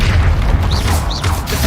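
A Depulso spell cast in Hogwarts Legacy brings a loud, deep rumbling boom with brief whooshing magical swishes layered over it, all within under two seconds.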